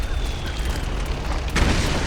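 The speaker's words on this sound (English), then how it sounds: "there's a way to use this mortar, I believe" Mortar fire in the Metal Gear Solid 4 video game, a continuous low rumbling boom that swells into a heavier thud near the end.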